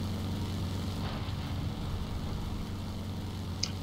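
The propeller engine of a Firebrand TF Mk.IV aircraft in the War Thunder video game drones steadily with a constant, fairly loud roar. No one speaks over it.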